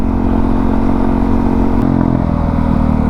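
Honda CRF450RL dirt bike engine running steadily while riding, a loud continuous mid-pitched drone with rough low rumble and slight shifts in pitch throughout.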